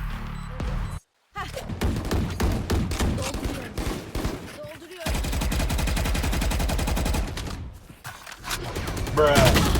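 Rapid video game gunfire crackles in dense bursts and sustained volleys throughout, loud and close, with brief gaps and clashing impacts, no voices heard.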